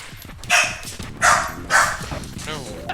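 A dog barks three times in a steady rhythm within The Legend of Dragoon, a PlayStation role-playing game, heard close and moderately loud over a low game background with no talk.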